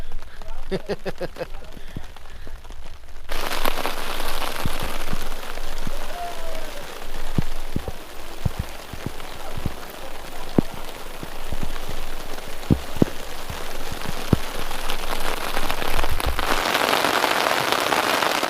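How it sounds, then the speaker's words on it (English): Heavy rain drums steadily on a tent while camping at Skelton Tower, a dense roar with sharp individual drops tapping throughout, loud and close, with a voice briefly audible under it. "I have never camped in rainfall like this before"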